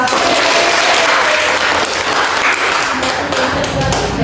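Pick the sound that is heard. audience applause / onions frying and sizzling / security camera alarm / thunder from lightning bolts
audience applause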